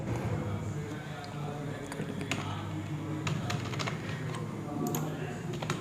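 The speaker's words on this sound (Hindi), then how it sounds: "सिंपली यहाँ पे डेट ऑफ बर्थ टाइप करेंगे।" Fingers type a date of birth on a computer keyboard in quick, irregular bursts of keystrokes close to the listener, with a person talking throughout.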